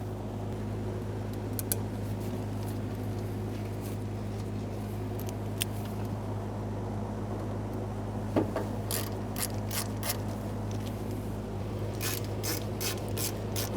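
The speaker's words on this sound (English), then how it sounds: "it's time to start in all 8 of our Phillips head screws" Phillips head screws being started by hand into a 1992-1996 Toyota Camry fuel pump assembly, faint ratcheting clicks and small metallic ticks over a steady low hum, growing busier toward the end.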